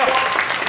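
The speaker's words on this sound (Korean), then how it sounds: "박수 한 번 주시고요" A crowd at a bowling tournament broadcast claps in a brief, dense burst of applause, loud and steady throughout.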